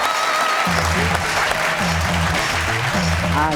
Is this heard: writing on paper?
no